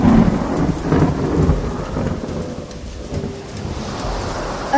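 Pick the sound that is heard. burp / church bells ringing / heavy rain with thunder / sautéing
heavy rain with thunder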